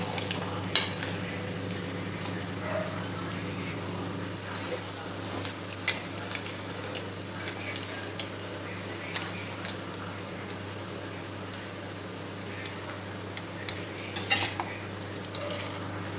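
Anchovies (nethili) fry in a pan with a low, steady sizzle that runs throughout, dotted with a few sharp clicks of a utensil against the pan.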